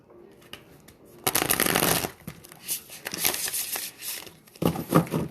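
Tarot cards shuffled by hand in close, crisp bursts of riffling and sliding, three main flurries separated by brief pauses, with no talking.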